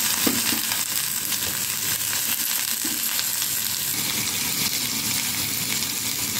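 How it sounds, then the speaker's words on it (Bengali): Bitter gourd and potato pieces fry together in mustard oil in a wok, making a dense, continuous close-up sizzle with faint stirring scrapes and no talking. "উচ্ছে আলুটা একসাথে ভাজা ভাজা হচ্ছে।"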